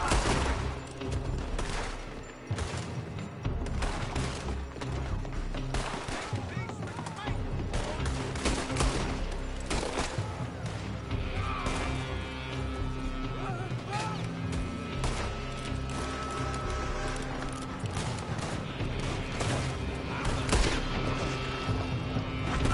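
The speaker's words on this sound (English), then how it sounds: "They're shooting from that building" Rapid gunfire in a Red Dead Redemption 2 shootout, dense volleys of shots crackling almost without pause for the whole stretch, loud and layered over game music, with voices shouting among the shots.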